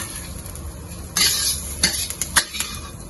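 Big onion stirred and tossed in capsicum oil in a wok, with a few loud scraping clatters of spatula against metal over a soft background sizzle.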